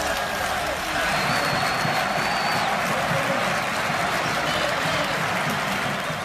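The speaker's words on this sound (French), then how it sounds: "les groupes de supporters d'Angers. Écoutons-les." Angers football supporters in a stadium fill the air with steady applause and crowd noise, a dense wash of clapping and cheering that holds evenly throughout, with a voice talking briefly over it.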